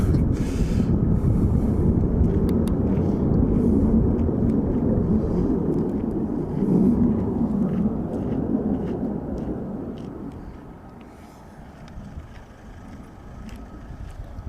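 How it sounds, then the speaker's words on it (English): Distant F-35 fighter jets approaching near RAF Lakenheath, a broad steady low roar that holds for several seconds, then gradually fades, with some wind buffeting the microphone. "I can hear more F-35s coming"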